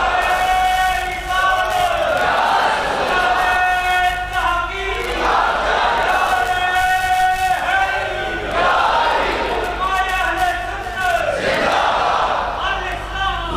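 A large crowd at a religious sermon chants slogans in unison, with repeated loud swelling shouts in a steady rhythm, several waves of voices rising and falling over a constant room hum.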